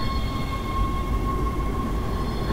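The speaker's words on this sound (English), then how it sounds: "so let's head to the tram" Dead Space tram ride: a steady, loud rumble of rolling rail carriage with a constant high whine, continuous throughout with no talk.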